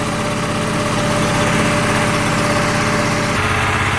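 A 24 volt Predator DC generator engine runs steadily nearby, a loud continuous buzzing drone with a slight change in tone near the end, alone without talk.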